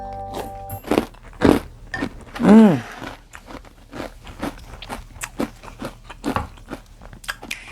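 Crunchy chewing of 100% almond cereal soaked in almond milk, close to the mic, with repeated bites and mouth noises in an irregular rhythm and one louder crunch partway through.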